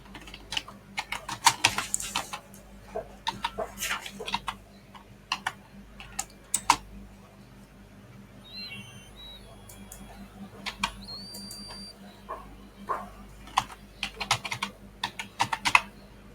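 Bursts of fast typing on a computer keyboard entering a note title, close and crisp clicks in uneven runs with brief pauses, plus a few faint chime-like tones.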